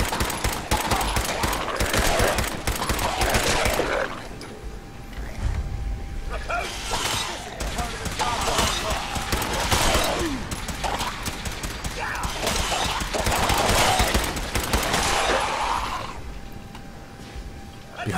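Video-game gunfire in Fallout 4, sustained rapid volleys with repeated loud bursts throughout, mixed with game voices and other battle noise.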